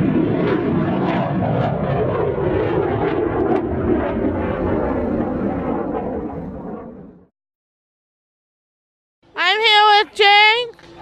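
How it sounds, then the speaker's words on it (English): A loud, steady airplane engine roar drones for about seven seconds at the Hemet Ryan Air Show, then cuts off; after a pause, a voice speaks briefly. "My favorite part of the air show is watching the helicopters and the airplanes fly."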